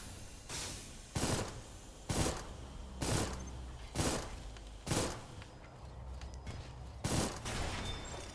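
Video-game gunfire in repeated bursts, about seven sharp volleys spaced roughly a second apart, loud and close with a steady background rumble between them.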